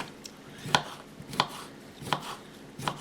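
A knife chops vegetables on a cutting board for a cucumber and tomato salad, with a sharp knock every half second or so, steady and close, with no talk.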